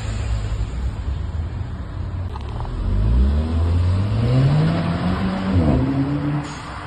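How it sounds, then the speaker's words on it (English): A tuned VW Golf 6 GTI with a blow-off valve and ram-air intake revs loudly and close by, its engine pitch sweeping up and down several times with a brief sharp drop near the end and no talk. "I will show the sound for my car right now."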